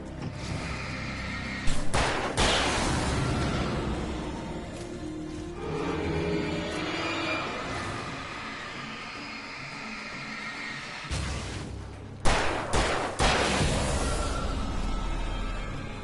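Shotgun blasts in a video game come in two close bursts of sharp, loud, booming shots, with a quieter stretch of game movement and ambience between them.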